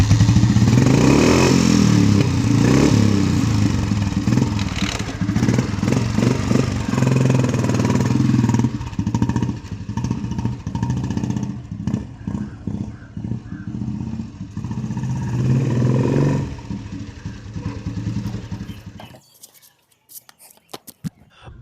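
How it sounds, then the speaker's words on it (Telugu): An old Royal Enfield Bullet 350 motorcycle idles loudly up close with a steady single-cylinder thump that turns choppier and uneven before cutting off near the end, while a voice speaks softly over it. "బండి స్టార్ట్ అయింది."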